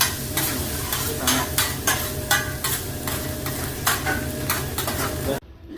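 A chef stir-fries Indonesian nasi goreng (fried rice) in a restaurant kitchen, with loud, steady sizzling and repeated scraping strokes of a spatula against the pan, close up, before the sound cuts off abruptly.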